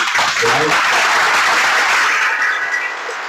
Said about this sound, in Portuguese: Uma salva de palmas para o nosso amigo